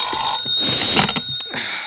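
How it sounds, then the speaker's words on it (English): A telephone rings in a room in an old radio drama, a bright, sustained bell-like tone with repeated bursts over a low background. No one speaks. "my phone rang the next morning"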